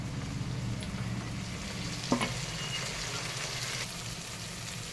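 Vegetables frying in oil for Telangana-style bagara rice, a constant hiss and sizzle with a brief sharp clink of a spoon against the pan midway, no talking.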